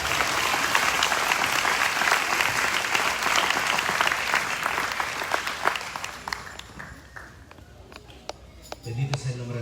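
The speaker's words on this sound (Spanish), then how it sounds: "Vamos a darle fuerte palmas al Señor en esta mañana." A church congregation applauds vigorously during a Sunday morning service, sustained clapping that gradually thins out toward the end, with scattered individual claps and faint voices at the tail.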